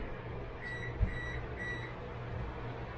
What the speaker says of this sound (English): that beeping that you just heard is I've preheated my oven at 350